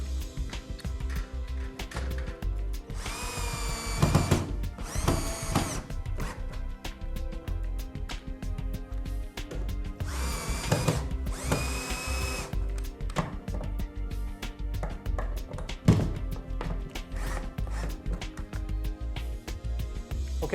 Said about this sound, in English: I'm just going to put screws in here to help us hold it up